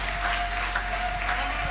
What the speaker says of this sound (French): Applaudissons notre Seigneur.